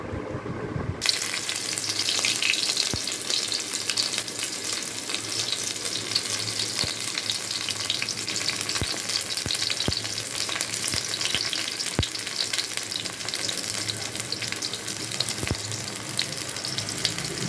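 Mustard oil sizzles and fries steadily in a heated pot for khichuri, a dense, continuous crackle with occasional sharper pops, close and loud with no talk.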